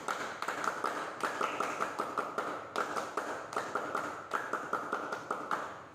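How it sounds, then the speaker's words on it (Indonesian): A group of scouts performs the patterned Pramuka clap twice, with sharp rhythmic clusters of claps in short repeating phrases, close and clear with brief pauses between sets. "2 kali tepuk pramuka."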